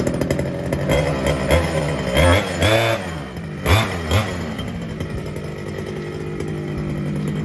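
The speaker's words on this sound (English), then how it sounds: "Wants to go. There it goes." A gas-powered Losi DBXL 2.0 RC car engine runs after starting, with a buzzy two-stroke drone that rises in a few revs before settling into a steady idle, close and loud.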